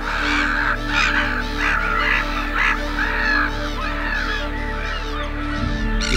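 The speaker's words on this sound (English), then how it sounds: "Every year, thousands of waders, wildfowl and gulls fly in, some from as far as Siberia, to feed and breed here." Flock of wildfowl and waders calling at a wetland, loud overlapping honks and cries in dense repeated bursts close by, with a low steady rumble underneath.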